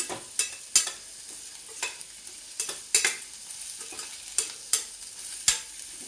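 Cashews frying slowly on a low flame in a pan, with a steady soft sizzle and sharp clinks of a spoon stirring against the pan at irregular intervals, close and alone with no talk.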